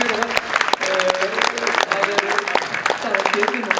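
Crowd clapping in an Icelandic gathering celebrating horse breeding, steady applause throughout with talk running over it.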